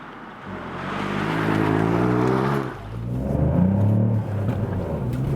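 A 2021 Ford Puma ST crossover accelerates hard in second gear with the window down, its engine revving in a loud, rising drone that dips briefly at a shift and climbs again.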